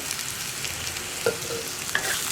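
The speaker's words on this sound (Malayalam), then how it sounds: "ഇനി ഇത് നന്നായിട്ട് വഴറ്റി നമ്മുടെ ചുരക്ക ഒന്ന് കുക്കായി വരുന്നത് വരെ ഇളക്കി കൊടുക്കുക" Grated ridge gourd and green gram are stir-fried over a low flame in a pan, a soft continuous sizzle broken by a couple of sharp spoon scrapes and clinks, close by and without talk.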